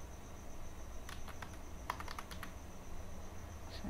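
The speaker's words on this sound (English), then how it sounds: "I will simply type here speed test." Typing on a computer keyboard at a PC, quiet clicky keystrokes in a short irregular burst of about eight taps, then a pause and a single later click, over a faint steady background hum.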